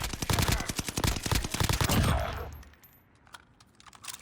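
Rapid automatic gunfire rings out in a Warzone match, a dense burst of sharp shots for about two seconds, then a few scattered quieter pops and clicks trailing off.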